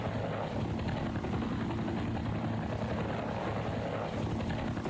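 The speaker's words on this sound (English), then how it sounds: "Did the helicopter get him?" Helicopter flying nearby, a steady dense rotor and engine drone with low throbbing beats, loud and continuous throughout with no speech.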